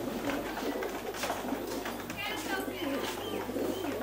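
Pigeons kept for competitive pigeon flying coo in soft, warbling bursts over a steady low background hum, fairly close and moderately loud throughout.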